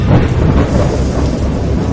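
A thunderstorm rumbles in the video game Dagon, based on H.P. Lovecraft, with a loud, continuous low roll of thunder over the sound of rain, and no voices.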